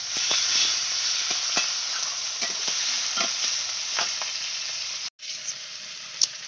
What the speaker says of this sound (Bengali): আমার টমেটোটা ভাজা হয়ে গেছে।